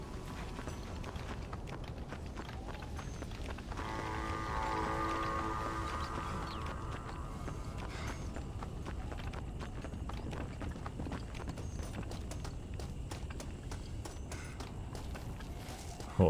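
Hooves of a horse in Red Dead Redemption clip-clop in a continuous quick rhythm under a steady bed of game ambience and music, with a brief tonal swell partway through.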